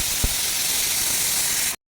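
A pressure cooker on a gas stove vents steam in a continuous, loud, even hiss that stops abruptly, with a faint knock near the start.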